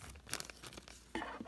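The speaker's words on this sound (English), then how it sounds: "we're going to use our plastic bag, and it's just any plastic bag that you get materials in." A thin plastic bag of the kind materials come packed in is handled close up, giving a quiet burst of crinkling and rustling at the start and again near the end, with no talking.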